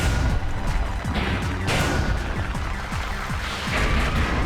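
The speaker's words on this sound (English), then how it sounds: "Concussion cannon." Concussion cannon attack in the fighting game One Must Fall Battlegrounds, a loud game effect of repeated booming impacts and crashes over a steady dense background of game noise.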